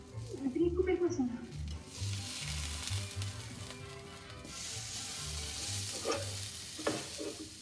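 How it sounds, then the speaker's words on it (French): Small cucumbers sizzle on a grill during a cooking class for Mexican-style fish ceviche, a steady frying hiss running throughout with light stirring and utensil noises, while a voice speaks faintly in the background. "là, je grille mes petits concombres"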